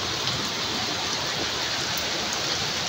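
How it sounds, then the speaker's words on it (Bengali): A heavy downpour pours down after the wind has dropped, a dense, loud, unbroken hiss of rain drumming on surfaces close by. "এখন দেখেন কি পরিমাণ বৃষ্টি, মুষলধারে বৃষ্টি শুরু হয়ে গেছে।"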